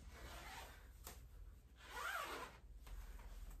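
A zipper on a stretchy, handmade Balenciaga-style dress is worked back and forth close by, giving a few soft rasping zips with quiet handling rubs between them.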